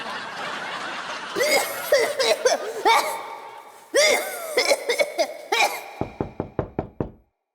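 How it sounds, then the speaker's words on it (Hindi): Someone pounds on a house door with a fast run of about eight sharp, loud knocks at the end, preceded by coughing, chuckling and throat clearing from people in the room. "आपके घर का दरवाजा कोई पीट रहा है मिस्टर साजन।"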